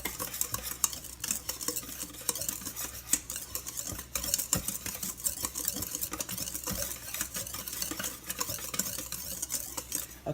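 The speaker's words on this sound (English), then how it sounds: "And I'm just going to whisk this together." Dry cake ingredients, including salt, get whisked together in a bowl for a chocolate cake, a quick, steady run of close, faint clicking and scraping strokes against the bowl that carries on throughout.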